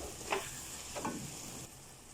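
Kaleji masala with green chilies sizzles in a pan as a spoon stirs and scrapes twice, a soft continuous frying hiss underneath, no speech.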